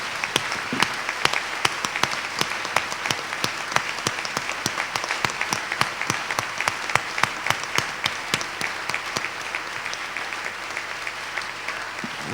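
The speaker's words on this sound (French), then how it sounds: "Acclame très fort le Seigneur." A church congregation in Tsévié, Togo, claps loudly and steadily for the Lord, a dense unbroken applause with sharper individual claps standing out throughout.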